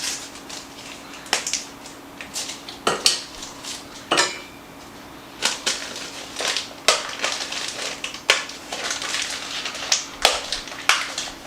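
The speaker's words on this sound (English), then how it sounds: "melt 8 ounces of semi-sweet chocolate just in a pan. And just kind of break it up if you can" Semi-sweet chocolate being broken up in a pan over very low heat, with repeated sharp clinks and scrapes of a utensil against the pan at an irregular pace, close and clear.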